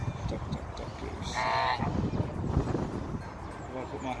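Goose honking at a city farm in Balsall Heath, a short burst of honks near the middle set against steady outdoor background noise and nearby talking.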